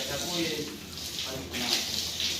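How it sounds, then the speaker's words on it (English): Water sprayed from a hose to wash residual dirt out of a cow shed on a cattle farm, a steady hissing rush with a brief dip midway, with a voice talking over it. "all sprayed using water."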